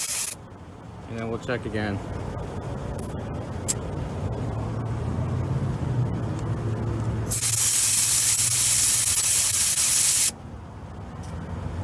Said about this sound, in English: It looks like 36, so I'm gonna deflate this.